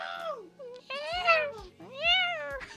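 A person screams in a high, wavering cat-like wail, two or three drawn-out meow-like cries close to the microphone, with a voice imitating a cat.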